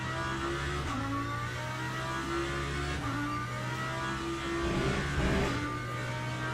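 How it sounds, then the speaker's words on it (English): Audi GT3 with a V10 engine in a racing game, a steady high-pitched mechanical wail holding through the run, with upshifts briefly dropping the tone before it climbs again, loud and continuous with no voices. "Beautiful V10 engine sound."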